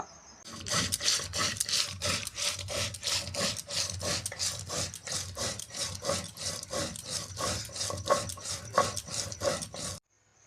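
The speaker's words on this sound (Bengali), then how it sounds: "মশলা বাটা" Spices are ground on a grinding stone in a home kitchen, a close, steady rasping scrape repeated in an even back-and-forth rhythm roughly twice per second, stopping at the end.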